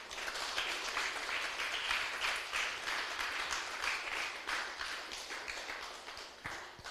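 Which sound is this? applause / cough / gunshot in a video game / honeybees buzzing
applause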